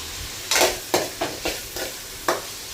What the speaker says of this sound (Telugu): కొంచెం కదిలిస్తే అడుగు మాడకుండా ఉంటుంది ఫ్రెండ్స్.